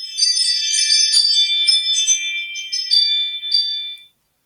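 A Ring video doorbell chime sounds as a bright, ringing electronic melody of several bell-like tones, clear and fairly loud, lasting about four seconds before cutting off into silence.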